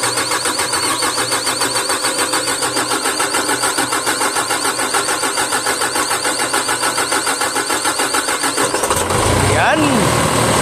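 Kobelco SK220-10 excavator diesel engine, after fuel injector repair, cranking loudly up close with a rapid rhythmic starter churn for about nine seconds before it catches and fires into a deep rumble, with voices nearby.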